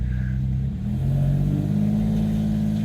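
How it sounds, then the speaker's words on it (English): A Porsche engine fitted with an induction kit idles with a throaty, steady drone, then the revs rise slightly, heard up close with no talking. "It's really nice and throaty. It's actually got an induction kit on it"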